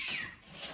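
A cat gives one short, close meow in a school film project, a brief rising and falling cry lasting under a second, alone without talk.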